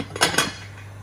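A lid set back onto a cooking pot of slow-cooked saltfish, giving two quick metallic clinks close by, with no talk.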